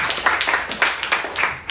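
A classroom of students claps together at a school session, a burst of uneven, overlapping handclaps with a few louder peaks, fairly close and continuous with no talking over it.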